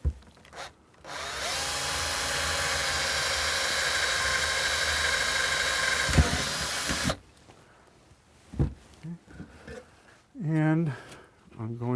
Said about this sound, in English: I'm going to drill a hole right through this section here.